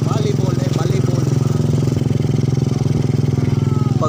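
Motorcycle engine running steadily with a fast, even putter and strong low hum, close and continuous, while someone talks over it.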